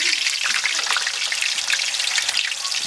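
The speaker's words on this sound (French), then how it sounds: "C'est frire les pommes de terre." Potatoes frying in hot oil for lamb biryani, a dense, continuous crackling sizzle that stays loud and even from start to finish, with no voices.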